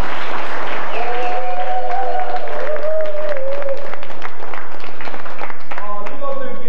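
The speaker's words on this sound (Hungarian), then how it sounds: "egy tapsot azt hiszem megérdemelnek." Applause from an audience at a 1994 Felsőpatony community gathering honoring sponsors, with scattered clapping under a prominent voice and background chatter.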